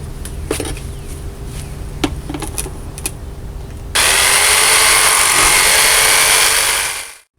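PVC pipe being cut lengthwise along both sides with a power tool, a loud steady high-pitched whine running for about three seconds after a stretch of quieter clicks and handling noises.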